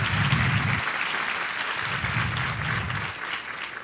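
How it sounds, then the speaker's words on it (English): A roomful of people gives steady, moderately loud applause at a ceremony recognizing top school seniors, dense clapping continuing evenly throughout without speech. "give a round of applause for all of our amazing folks in the room"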